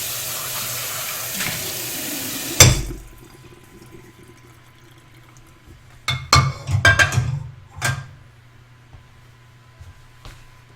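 Tap water runs into a kitchen sink while dishes are rinsed, a steady hiss that cuts off and gives way to clattering splashes and drips, with no speech.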